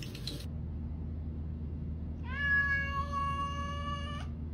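A house cat lets out one long, drawn-out meow, loud and close, after a brief noise at the start. It stands alone over a quiet, steady background.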